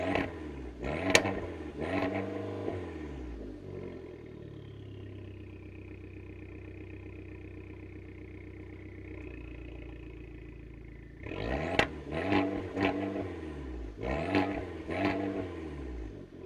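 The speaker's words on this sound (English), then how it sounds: "The Abarth seems like almost too much of a toy with its loud exhaust note" A 2015 Fiat 500 Abarth's exhaust crackles and revs sharply, settles into a droning hold, then bursts back into loud rapid revving blips.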